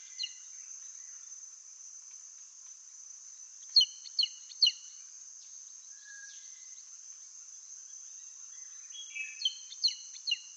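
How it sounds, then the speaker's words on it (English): Short chirp-like whistles of an Andaman Serpent Eagle, an endemic raptor of the Andaman Islands, come in two separate series of quick notes, the first around the middle and the second near the end, over a steady high insect hum. "Calls delivered in a series of 4 to 5 short, chirp-like whistles."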